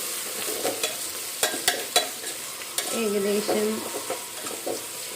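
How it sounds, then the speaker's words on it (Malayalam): Onions frying in oil in a pan with curry leaves for a Kerala rice dish, a spoon stirring and scraping with several sharp clinks against the pan over a steady sizzle. "ഇത് നന്നായിട്ട് ഇളക്കി കൊടുക്കാം."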